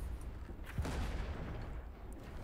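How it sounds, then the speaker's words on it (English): A ship's cannon firing in the naval combat game Blazing Sails, a single booming shot midway through that swells into a dense, sustained low roar, moderately loud and heard alone. "Get on the normal cannon"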